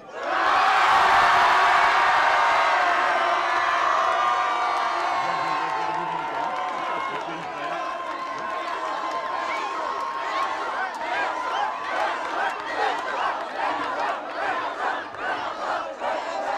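Large rally crowd at a political meeting in Saint-Nazaire shouting and cheering loudly together, the roar settling into rhythmic chanting with repeated pulses toward the end.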